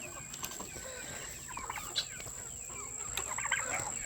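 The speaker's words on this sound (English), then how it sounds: "These are breasty meat birds right there." Meat chickens on a homestead cluck and murmur softly in a coop, scattered short calls rising over a steady background hum, fairly faint and close.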